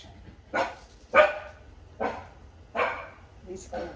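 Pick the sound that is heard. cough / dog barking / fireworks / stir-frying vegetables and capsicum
dog barking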